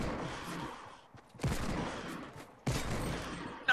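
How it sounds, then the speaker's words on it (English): Bursts of gunfire in a Fortnite match, three loud volleys of rapid shots separated by short quiet gaps, close and sharp, with a final crack cut off at the end. "Someone just shot at me."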